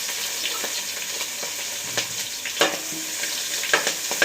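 Chopped ginger and green chilies sautéing in a pan with dried red chilies, a steady close sizzle broken by repeated spatula scrapes and clicks at an uneven rhythm, no voices.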